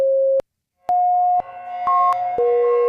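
Synth tones passed through a Kajita multi-tap delay into reverb: a few clean pitched notes, each echoed and smeared into a sustained wash that builds over the phrase, loud and alone.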